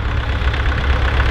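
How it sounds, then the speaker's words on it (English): A McCormick International B250 tractor engine idles loud and close, a steady low chugging hum with no pauses. "Now here we have a McCormick International B250."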